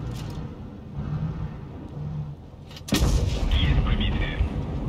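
Tank cannon fire in World of Tanks Blitz: a steady mechanical engine rumble, then one heavy booming shot about three seconds in that leaves a louder, rolling roar, under faint in-game noise.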